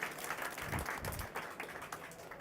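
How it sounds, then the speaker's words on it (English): Audience applause for a performer at a lobby carol concert, a steady mass of clapping at moderate volume lasting throughout with no talk over it. "Let's give a nice round of applause to Colton."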